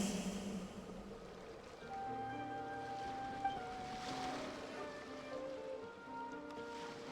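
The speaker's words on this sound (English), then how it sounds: "Go to where you can hear the sound of the waves." Ocean waves wash in a calm Genshin Impact seaside setting, a steady soft surf hiss with gentle swells, faint and continuous, alongside light musical tones and no talking.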